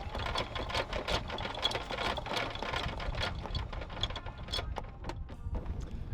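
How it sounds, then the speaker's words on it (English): An anchor windlass runs on a Fountaine Pajot Belize sailing catamaran, a close, rapid, rhythmic mechanical clatter with fast repeated ticks over a low motor hum, steady throughout, with no speech. "you just got a demonstration of what we use the anchor locker for and what the windlass does"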